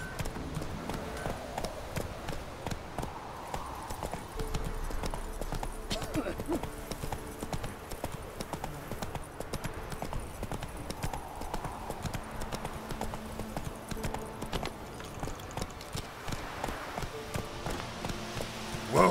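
In The Witcher 3, Roach the horse trots with steady, rhythmic clip-clopping hooves, close and continuous, while game voices and background music play over it.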